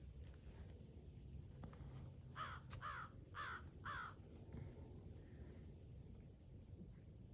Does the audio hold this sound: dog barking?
no